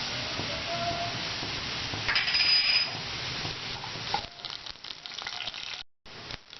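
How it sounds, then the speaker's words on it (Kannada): Mustard seeds sputter and crackle steadily in hot oil for potato saagu, a dense close sizzle with a brief metallic clink partway through, then a few quieter pops near the end. "ಇವಾಗ ಮೊದಲು ನಾವು ಸಾಸಿವೆ ಹಾಕ್ಕೊಳ್ಳೋಣ"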